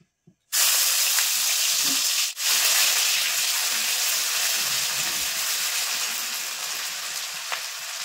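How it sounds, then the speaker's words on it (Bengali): Garlic paste hits hot oil in a wok and erupts into a loud, close, continuous sizzle that stays strong, easing only slightly as it goes on, with a brief stir partway through. "রসুনটা একটু ভাজা ভাজা করে নিয়েছি"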